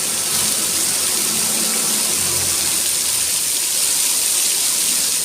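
Heavy rain pours down steadily in the Matel area of Morbi, a dense, continuous hiss that stays loud and unbroken from start to finish with no voices.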